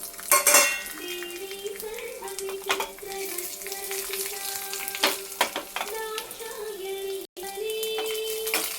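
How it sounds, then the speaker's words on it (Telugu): Cumin, cashews, dried red chilli, ginger and curry leaves frying in hot oil for a tempering, a close steady sizzle with scattered clinks and scrapes of stirring and a faint sustained hum. "జీలకర్ర, జీడిపప్పు వేగింది. కాస్త ఎండుమిర్చి అయితే ఒకటే చిన్న ముక్క వేసానండి, చిన్న అల్లం ముక్క, కొంచెం కరివేపాకు వేసుకుందాము."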